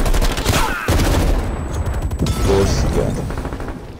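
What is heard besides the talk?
Stoner machine gun fire in Call of Duty Cold War video game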